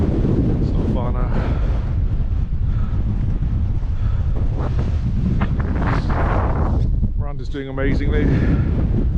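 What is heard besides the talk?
wind at the summit of Cribyn, Brecon Beacons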